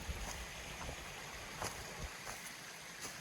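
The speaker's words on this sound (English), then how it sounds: "this beautiful stream that I'm camped next to is called Wallow Branch" A mountain stream called Wallow Branch flows beside a campsite, a faint, steady rushing wash of water with no voices.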